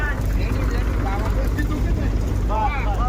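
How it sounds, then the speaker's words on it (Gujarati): A tractor engine rumbles steadily and loudly during wheat harvesting on a farm, a continuous low drone with voices talking over it. "બીજું ટ્રેક્ટર આવ્યું છે."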